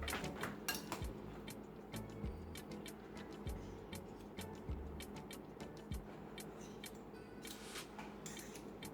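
Metal spoon clinking and scraping against muffin tins while almond frangipani is portioned into each cup for blackberry almond muffins, a run of light, irregular taps close by over a quiet kitchen background.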